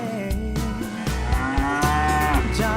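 A cow lows in long, deep moos that carry loud and near, with no talk over them.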